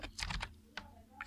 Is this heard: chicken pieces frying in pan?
no